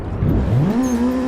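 A game car in Assetto Corsa, on a circuit with drifting mods, revs upward, its engine pitch climbing and then holding steady. The burst is brief, close and loud.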